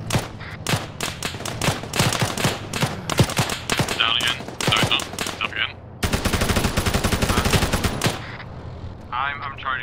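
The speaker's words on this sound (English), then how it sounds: "there's a machine gun on the roof" Rapid machine gun fire from a rooftop position in Arma 3, long bursts of sharp repeated shots with a steady chattering rhythm, loud and close, with faint voices talking in the background.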